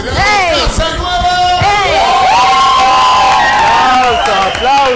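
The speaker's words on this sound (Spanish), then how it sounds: "Aplausos" A studio audience on a Honduran morning television show cheers and yells loudly, excited voices rising in a dense continuous burst with shouted whoops overlapping throughout.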